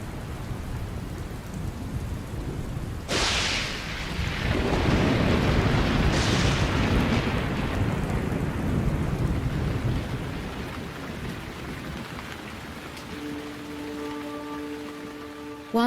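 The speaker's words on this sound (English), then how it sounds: "As the downpour begins, the parched ground absorbs every drop." Heavy rain pours down across an open African plain in a thunderstorm, a dense steady roar of downpour broken by loud, close thunder cracks and rolling rumbles.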